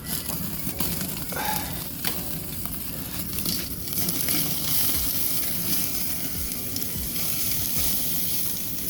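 Sous vide ribeye steaks searing in hot grease on a cast iron grill at about 700 degrees, giving a steady loud sizzle and crackle with no speech.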